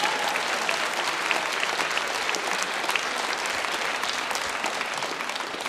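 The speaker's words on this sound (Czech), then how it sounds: "Vy jste řekla 41, taky tleskalo." Studio audience applauding at a Czech television entertainment show in Jihlava, a steady dense wash of clapping that holds at full strength throughout without a break.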